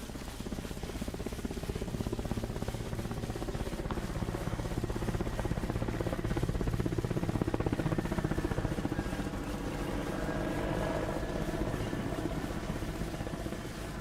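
A Mi-24 helicopter flies overhead in a video game, its rotor making a steady loud chopping drone that holds throughout without a break.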